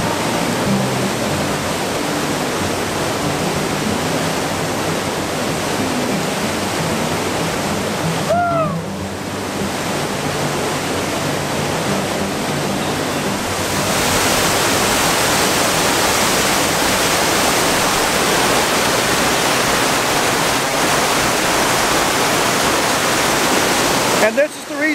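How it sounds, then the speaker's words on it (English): A waterfall in Southern New England thunders in a constant, close, heavy roar that never lets up, with faint voices briefly in the background. "look at this waterfall. It is incredible."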